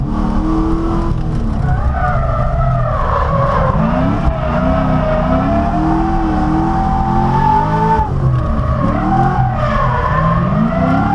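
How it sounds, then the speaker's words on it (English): A 489 whp C6 Corvette drifting on a track at up to about 70, its engine roaring loud and continuous, with the pitch rising and falling as the tires squeal through the slide. "We're doing 70 by the end of that drift."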